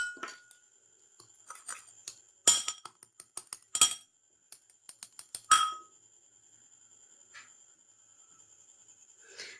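A spoon mixing aloe vera gel in a bowl makes irregular bright clinks and taps in quick clusters, then it goes quiet apart from a faint scrape.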